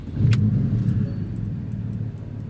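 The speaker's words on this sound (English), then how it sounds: "we'll turn the engine on" A Porsche 991 engine fires up with a brief crank and settles into a loud, low, steady idle rumble close by.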